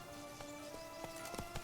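Geralt's horse Roach in The Witcher 3 moving at speed, a few soft hoofbeats spaced irregularly over a faint steady background hum, fairly quiet and distant.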